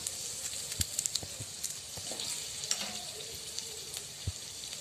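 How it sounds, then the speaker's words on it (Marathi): Two thick-cut onions sizzle steadily in hot oil, a close and continuous frying crackle with scattered pops and occasional stirring clicks. "थोडा तेलात परतून घेऊया आपण. दोन कांदे घेतले मी."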